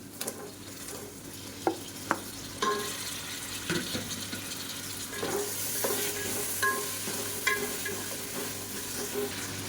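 Tomatoes and four green chillies fry in a pan for mutton biryani, giving a continuous soft sizzle under scraping stirs and a few sharp clinks of a spoon against the pan.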